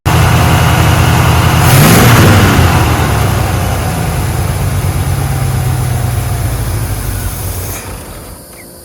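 A 1985 Chevrolet C-10 short-bed pickup's engine idles roughly with vacuum leaks, a loud, uneven close-up rumble that swells briefly near the start and then settles and fades slightly toward the end, with no talking.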